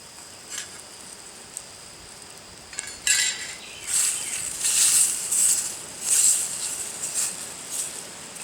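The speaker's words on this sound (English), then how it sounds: "Bacon cooking, sizzling." Faint crackling and hissing patter of bacon sizzling in a stainless steel camping bowl over hot coals grows livelier partway through with soft pops, against a quiet background.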